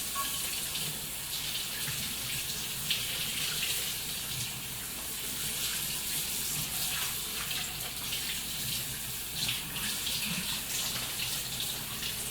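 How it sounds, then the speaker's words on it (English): Water runs steadily from a tap into a sink while something is rinsed off, a constant close gushing stream without clear pauses. "This definitely needs to be rinsed off first."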